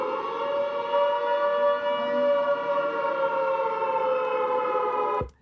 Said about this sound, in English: This is our air raid siren.